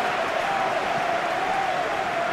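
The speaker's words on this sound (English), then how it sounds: "at least the crowd are appreciative of his efforts" Steady crowd applause and low stadium murmur fill a football match in PES 21, Arsenal against Bayern Munich in a Champions League quarter-final, a continuous wash of clapping with no distinct break.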